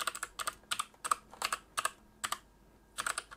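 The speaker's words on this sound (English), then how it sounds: "once you've finished typing that in" Quiet keystrokes on a computer keyboard, short bursts of rapid clicks with brief pauses between them, close and alone while a filename is entered for a BIOS update.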